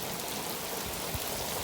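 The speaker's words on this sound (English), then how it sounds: "It is raining quite a bit." Steady rain falls on a lawn, a dense, even hiss of drops spread across the whole moment, with a faint low thud partway through.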